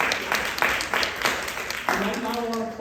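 A town hall audience at Linn-Benton Community College claps briefly for Senator Ron Wyden, a short burst of applause mixed with a few voices.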